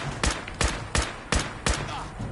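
Gunfire from the video game Fallout 4 sounds as five sharp, evenly spaced shots in quick succession, loud and punchy with short decays.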